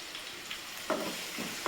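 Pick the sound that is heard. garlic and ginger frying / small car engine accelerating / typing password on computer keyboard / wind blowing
garlic and ginger frying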